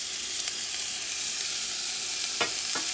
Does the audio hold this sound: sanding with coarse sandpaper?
no